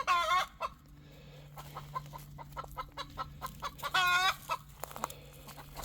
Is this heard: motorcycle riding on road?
no